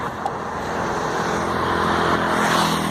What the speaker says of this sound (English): look at the trucks going by